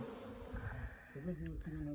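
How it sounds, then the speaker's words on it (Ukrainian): A steady insect buzz of many honey bees flying around an apiary in spring fills the air, mixed with low rumbling and a faint voice in the background. "Отак от пасіка облітується."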